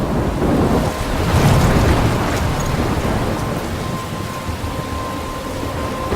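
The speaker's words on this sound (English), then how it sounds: "I'm trapped in a storm?" A thunderstorm with rain in Life Is Strange: steady roaring rain and wind fill the clip, with a low thunder rumble swelling early on, continuous and fairly loud with no voices.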